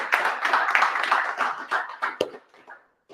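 Audience applause at a live talk event: a crowd clapping steadily and fairly close, then thinning out and fading to near silence near the end.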